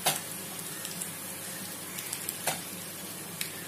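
Surmai fish pieces going into a simmering Konkani fish salan, a close continuous sizzle and bubbling with a few small clicks and splashes scattered through, no speech.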